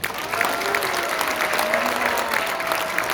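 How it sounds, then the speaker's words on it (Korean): Sustained applause from an audience at a rally of conservative YouTubers and civic groups, steady dense clapping lasting throughout with faint crowd murmur beneath. "이분들에게 박수 한번 보내주십시오"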